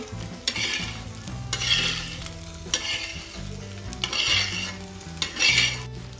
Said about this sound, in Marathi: आता इथे मी त्याच तव्यामध्ये ऑइल टाकलेलं आहे आता आपल्याला कांदा छान सॉफ्ट होईपर्यंत परतून घ्यायचा आहे